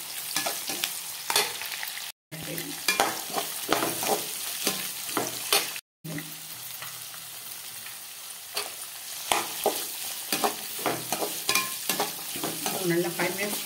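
Beans tossed into a frying Madurai-style kurma for chapati: constant sizzling and frying with repeated stirring scrapes and clatter, close and fairly busy, broken by two brief silent gaps.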